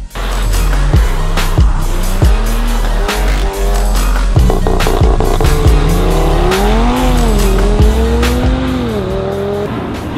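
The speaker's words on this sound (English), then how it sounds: "Everyone's cars popping and farting." Engines rev and roar up and down with repeated sharp pops and crackles from exhausts, loud and close, several cars together, including an Audi RS3, at night.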